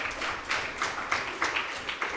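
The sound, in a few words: audience applause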